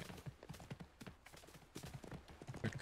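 Horse hooves clip-clopping in the video game Hogwarts Legacy, a quick, even trotting rhythm that runs throughout at a faint level.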